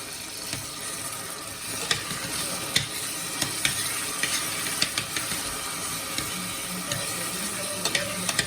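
Pepper paste and homemade tomato paste sizzling in a pan while being stirred, a constant close frying hiss with scattered scraping clicks and taps from the spoon, no speech.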